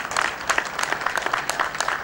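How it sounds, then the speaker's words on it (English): A conference audience applauds panel speakers at a horticulture trade and investment meeting, a brief, even patter of many hands clapping at moderate volume. "ladies and gentlemen, please, a round of applause to our speakers"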